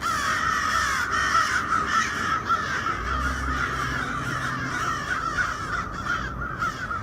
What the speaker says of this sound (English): And that's like a whole murder of crows.